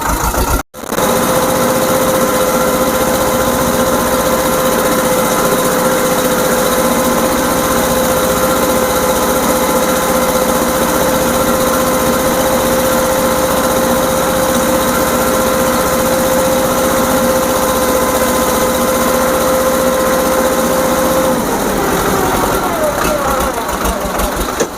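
Tractor engine running steadily in a sugarcane field during earthing-up work with a trench-method implement, a loud continuous drone with a sustained tonal whine, close by and nearly uninterrupted, with faint voices beneath.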